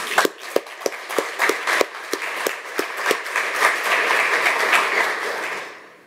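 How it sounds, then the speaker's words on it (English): Audience applause at a conference talk on moving 800-plus projects from Apache to uWSGI, starting as a few sharp separate claps and quickly thickening into a steady round of clapping that fades out at the end. "Can we give him some applause?"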